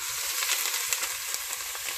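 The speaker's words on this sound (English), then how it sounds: "I'm going to saute these onions until they're translucent" Onions sautéing over medium heat in about two tablespoons of extra virgin olive oil, a steady close sizzle with small crackling pops and no talking.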